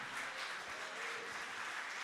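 A church congregation applauds steadily during a worship service, a dense wash of many hands clapping at moderate distance, continuous and even.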